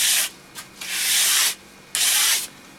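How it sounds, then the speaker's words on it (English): A stiff brush sweeps excess wax out of the grooves of a stone-ground ski base in loud, close, rasping strokes, two long passes and a short one separated by brief pauses. "the last step is just to brush any excess wax that's in those little grooves"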